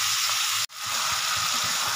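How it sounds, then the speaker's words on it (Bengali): Chicken pieces with turmeric and salt fry in a pan, a steady close sizzle that briefly cuts out and then resumes strongly. "এবার আমি লাল লাল করে ভেজে নেব।"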